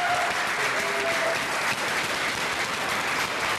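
Sustained applause from an audience at a youth speaking competition welcomes the ESMT team, a dense, even wash of many hands clapping throughout with no pause.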